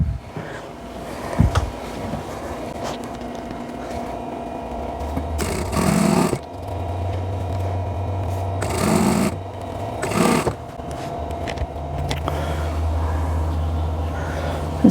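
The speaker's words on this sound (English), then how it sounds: "I'll just sew those together" Sewing machine joining quilt block pieces, running in short bursts with pauses between, close and fairly loud, with low motor hum and occasional handling noises.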